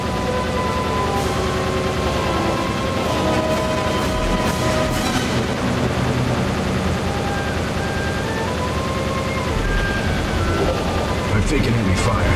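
Steady gunfire and blaster shots from the Gamecube game Star Fox Assault, during the Corneria mission, run throughout beneath game music and radio chatter between characters.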